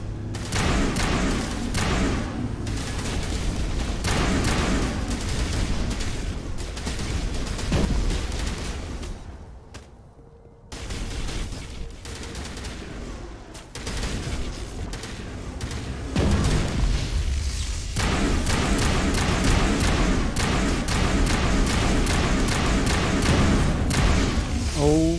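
Rapid bursts of gunfire and booming blasts from the video game Mass Effect roll on almost continuously, loud and dense, with a short lull partway through.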